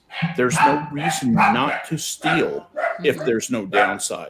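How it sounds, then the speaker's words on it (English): Dogs bark repeatedly in the background while someone speaks steadily over them, the barks partly masked by his close voice. "Sorry about the dogs."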